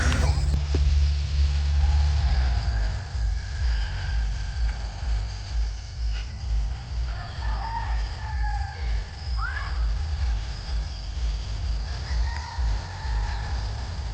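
Outdoor morning ambience at a campsite in Cavinti, Laguna, Philippines, with scattered bird calls and distant chirps over a steady low rumble, moderately loud and continuous.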